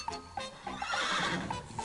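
A horse whinnies loudly over quick, regular clip-clopping hooves in a cartoon Pony Express rider trial, the neigh rising in the middle with hoofbeats running throughout.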